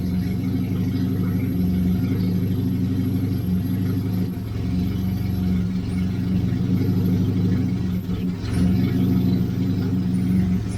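The 998cc A-series engine of a 1989 Austin Mini runs on its own and stumbles a little. It makes a steady, fairly loud low drone with slight unevenness, heard alone without voices.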